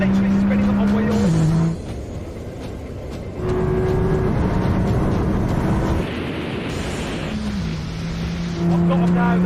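A 1600-horsepower Nissan GT-R pulling hard from 40 mph in a rolling race: a loud, roaring engine note that climbs through gears with brief dips at shifts, heard from inside the car.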